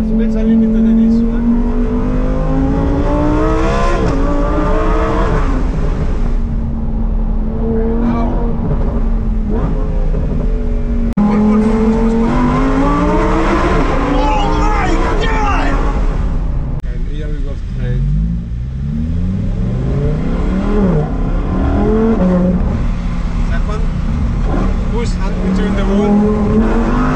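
Lamborghini Huracan STO, a special limited-edition car with a V10 engine, drives on Italian backroads, its engine loud and steady with repeated rising revs and gear changes, while someone talks over it.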